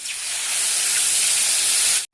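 Water is poured into a hot pan holding fried fish, fried eggplant and bitter gourd, bursting into a loud, steady steam hiss that lasts about two seconds, then cuts off abruptly.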